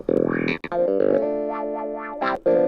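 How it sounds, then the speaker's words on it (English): A funky wah-wah clavinet preset on a Casio Privia PX-5S plays a line with a sweeping wah filter, short stabs and a sustained wobbling note, close and bright. "is the great the wah-wah clav that we have"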